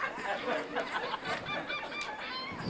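Gulls call and squawk in a quick run of overlapping shrill cries, fairly close and moderately loud, with no talking.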